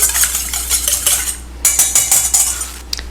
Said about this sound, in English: you're going to start with 1 egg. Lightly beaten,